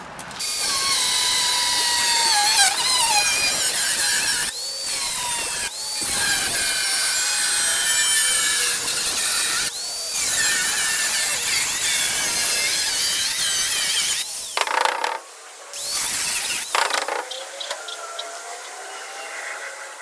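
A hand saw cutting along a marked line while fitting toolbox storage to a converted school bus, with repeated rasping strokes close by that pause briefly near the end.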